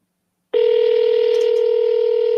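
A telephone call rings out through the earpiece after dialing, a single steady tone starting abruptly and holding, clean and alone.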